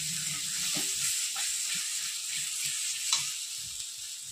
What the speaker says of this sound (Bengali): মশলাগুলো এবার আমি সব কষিয়ে নেব। আর টমেটো আমি আদা, পেঁয়াজ, রসুনের সাথে পেস্ট করে দিয়েছি